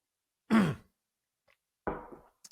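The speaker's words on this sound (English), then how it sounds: "I'm clearing my throat constantly today" Two short throat-clearing bursts from a man with a strained, fading voice, the first louder and rougher, the second softer a moment later, close and alone in a quiet room.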